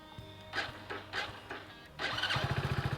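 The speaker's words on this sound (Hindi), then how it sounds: "ये स्टार्ट कर लेते हैं HF डीलक्स को।" A Hero HF Deluxe 100 cc commuter motorcycle is started: a few cranking attempts, then the engine catches and settles into a quick, even putter at idle, close and fairly quiet.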